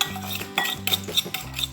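Raw chicken wings are tossed and mixed in a bowl with garlic powder, salt and chili powder, a close, wet, rhythmic stirring with soft clinks repeating steadily, with no talking.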